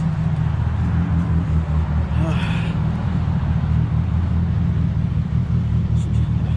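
A car engine idles steadily after being started, a low continuous rumble with a brief higher burst partway through, a possible head gasket fault in question, heard close up and alone.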